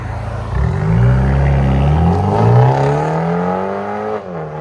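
A 2023 Genesis G70 2.0L turbo with resonator and muffler delete revs once, exhaust rising in pitch over a few seconds, loud and close, then dropping back as the throttle closes.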